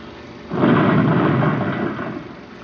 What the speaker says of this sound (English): That bundle of wood helps to confine the blast.